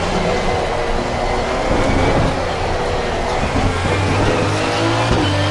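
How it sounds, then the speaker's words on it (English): Race cars in Assetto Corsa Competizione pull away from the pits in a loud, steady wash of engine noise, with a lower droning tone joining partway through. "As all these cars are leaving now, some of them are leaving."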